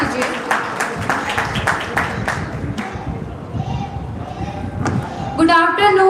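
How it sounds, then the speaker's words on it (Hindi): An audience claps at a speech event to welcome the next speaker, with a brief burst of scattered applause under a voice, then it fades as talking continues. "जोरदार तालियों से स्वागत कीजिए"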